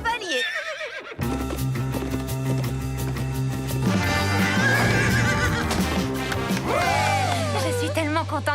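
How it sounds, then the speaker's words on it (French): A cartoon mare whinnies loudly and close, a long, shaky neigh over a steady musical bed, followed by a second rising whinny near the end, with hoof clip-clops along the way. "Mes amis, voici ma jument Tony."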